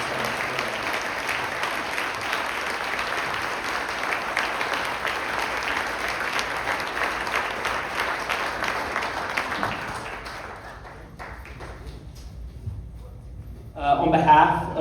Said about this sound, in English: So can we give one more round of applause for all of these guys?